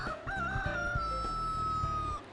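A rooster crows once in a long drawn-out call over clucking chickens on a quiet countryside farm in Yeongdeok, close and clear with no talk.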